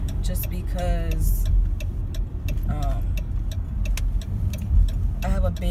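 A car driving to school rolls along with a steady low road rumble inside the cabin, while a person talks over it and faint ticks sound throughout.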